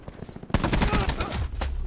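A sudden burst of rapid automatic gunfire in Call of Duty Black Ops 4 multiplayer, loud and close, continuing as a dense volley for over a second.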